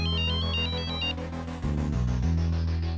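A phone ringtone plays loudly and close, a repeating electronic melody with a steady beat that shifts pattern partway through and continues without any talking.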